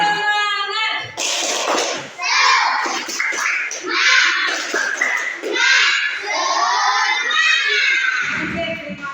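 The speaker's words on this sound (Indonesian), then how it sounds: "Tepuk semangat." Schoolchildren in a classroom doing the 'tepuk semangat' clapping chant, a loud group of young voices chanting and shouting together with claps mixed in, steady and energetic throughout.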